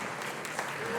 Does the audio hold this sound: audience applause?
yes